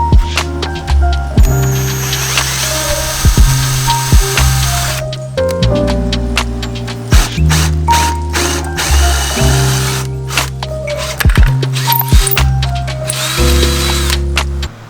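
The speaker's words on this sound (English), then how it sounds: "find where you're going to drill your hole" A power drill whirs in repeated bursts through a hole with a step drill bit, with ratcheting clicks and brief pauses between runs, loud and close.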